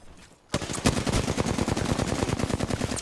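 Rapid automatic gunfire from the Apex Legends battle royale, a dense loud burst of repeated shots starting suddenly after a brief quiet moment and continuing steadily with no talk.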